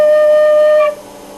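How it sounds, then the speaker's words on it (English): Kargyraa throat singing held on a clear D note: a loud, steady, buzzing tone rich in overtones lasts under a second, then fades quickly into quiet. "that's the sound you make while doing kargyraa"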